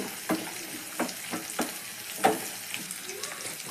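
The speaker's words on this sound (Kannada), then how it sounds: "ಸ್ವಲ್ಪ ಫ್ರೈ ಮಾಡ್ಕೊಳ್ಳೋಣ" Ingredients for an egg and chicken sambar frying in a pan, a steady low sizzle broken by scattered scraping stirs and clinks, close and moderately loud with no talking.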